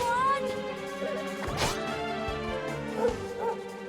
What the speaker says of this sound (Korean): 멍멍.